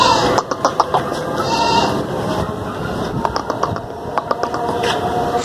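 A pregnant goat about three to three and a half months along bleats loudly and close by at a livestock sale in New Karachi, with several short cries and other animal and background noise around it.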